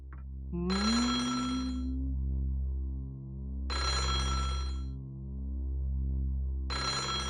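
A telephone rings in the country-mansion visual novel Otogirisou, three long electronic bursts separated by pauses, over a low steady drone of music.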